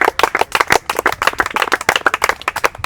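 Crowd of children and adults clapping hands in a dense, fast patter of overlapping claps, loud and close, lasting a few seconds with no talk over it.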